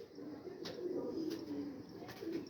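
A green-pearl-eyed pigeon coos in soft, low rolling phrases, close by and repeated a few times, with faint clicks and no speech.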